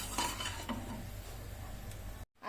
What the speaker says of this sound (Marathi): आता आपण हे साखर विरघळेपर्यंत आपल्याला हे असं मिश्रण हे ढवळत राहायचं आहे